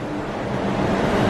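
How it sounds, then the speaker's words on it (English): A Disney monorail passes overhead at the Grand Floridian Resort, a steady broadband rumbling roar that swells slightly as it goes by, with no talk. "You can hear the monorail on top of us right now."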